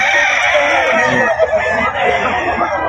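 A hen with a straight comb at a market sale, loud clucking and crowing-like fowl calls close by, mixed with background chatter and other birds.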